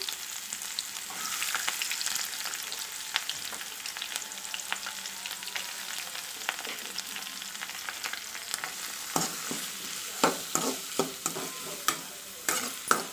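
Shallots and large onions sauté in a hot pan for a Tamil palakottai dish, giving a steady sizzle with frequent scraping stir strokes that grow sharper and more pronounced toward the end.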